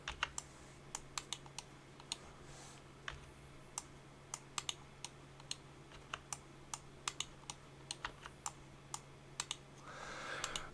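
Sharp mouse clicks at a computer while working in Blender 3D software, a steady run of crisp, quiet clicks spaced every half second or so over a low hum, with a brief rustle near the end and no talking.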